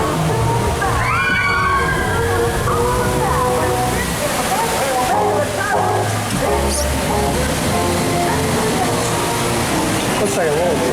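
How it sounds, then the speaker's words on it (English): Rushing, sloshing water splashes loudly and continuously around a log boat on the Splash Mountain flume ride at Walt Disney World, with people talking and exclaiming over the steady wash. "No, this water's splashing."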